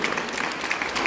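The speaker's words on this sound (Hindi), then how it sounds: "ताली" Guests clap during post-wedding rituals with the sindoor ceremony, a short, loud, continuous burst of crowd applause with many overlapping hand claps and no speech.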